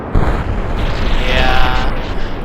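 Rocket explosion in the video game Kerbal Space Program, a sudden loud boom followed by a rumbling, crackling roar that swells and sustains for a couple of seconds.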